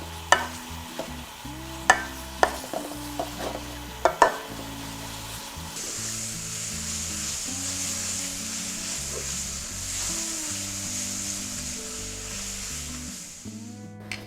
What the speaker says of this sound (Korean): 고기를 충분히 볶아줍니다.